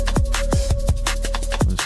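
A drum break pitched up three half steps, with deep punchy kicks that drop in pitch and crisp snare and hat hits in a quick, busy groove, plus a steady sustained tone running underneath, loud and close.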